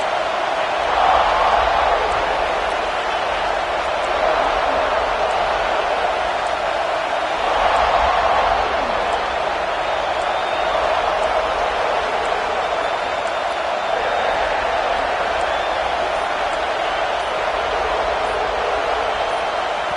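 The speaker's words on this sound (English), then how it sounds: "And with this place rocking, the crowd forces a false start." A roaring stadium crowd in an NCAA college football video game, a dense, sustained wash of cheering noise that swells and eases in broad waves over twenty seconds, with no clear voices standing out.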